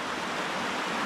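A trail-less waterfall in Oregon's Tillamook Forest gives off a dense, steady rush of falling water, a broad unbroken hiss that is loud and near throughout, with no voices.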